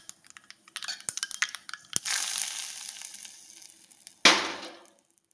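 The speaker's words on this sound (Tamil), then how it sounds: "இப்போ இதுக்கு நம்ம கடுகு தாளிக்க போகிறோம்." Mustard seeds tempering in hot oil for a Rama Navami offering dish: scattered sharp pops and crackles build into a sustained sizzle, then a sudden loud burst of spattering fades out, close and without talk.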